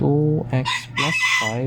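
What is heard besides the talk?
chicken, rooster crowing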